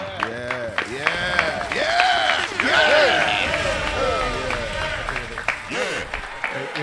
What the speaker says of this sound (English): Hey, give the Lord a round of applause, man, for that.